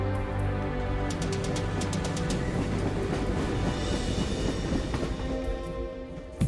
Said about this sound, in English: The train travels steadily and relatively quietly